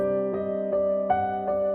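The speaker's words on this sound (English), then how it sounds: "That's the sound of a hyperscale data center here in Dowagiac, Michigan." Background drone of a hyperscale data center in Dowagiac, Michigan: a steady, layered mechanical hum with sustained tones and soft periodic swells about every third of a second, continuous and unbroken.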